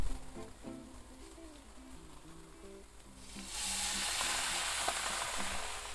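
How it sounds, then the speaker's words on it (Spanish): A glass of wine is poured into a hot pan while cooking hake. Faint low tones give way partway through to a sudden loud, hissing sizzle that holds steady to the end. "Y luego a continuación ya le vamos a echar el vasito de vino"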